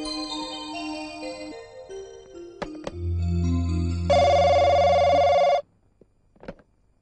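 A telephone bell rings loudly indoors in a short steady burst, cutting off abruptly, with a faint knock or movement afterward and no talking.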